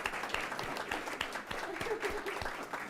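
Attendees at a town commissioners' meeting applaud the homeowners' families with a sustained patter of clapping in a meeting room, moderately loud and even throughout, with faint voices underneath.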